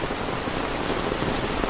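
Heavy rain pouring down during flooding in a slum area, a loud, dense, unbroken hiss of drops hammering surfaces close by, with no voices.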